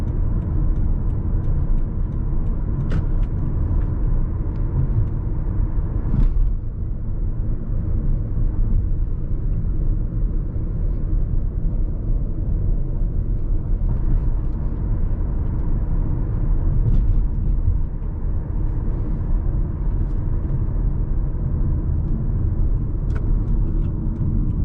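A Toyota Camry rumbles along on the road, engine and tyre drone steady and close from inside, with a few faint knocks and clicks scattered through the ride and no talking.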